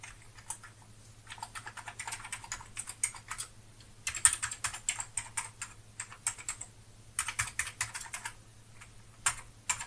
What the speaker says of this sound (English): let's see how this keyboard works.